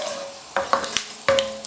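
Curry leaves and whole spices hit about a third of a cup of hot oil, giving short bursts of sizzling and spattering with stirring scrapes, two sharp onsets close by and no talking.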